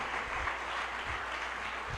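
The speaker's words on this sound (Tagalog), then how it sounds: "Lahat ng nananampalataya sa Diyos pumalakpak ng malakas sa ating mahal na Panginoon." A church congregation applauding loudly during a sermon: a dense, steady wash of many hands clapping, sustained at an even level throughout, with no talk over it.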